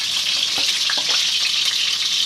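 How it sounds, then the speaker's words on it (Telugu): Eggs frying in hot oil in a pan while cooking an eggplant and egg curry, a steady close sizzle with a few soft stirring taps. "కొంచెం గుడ్లు అయితే వేసుకొని వేపేసుకుందాం"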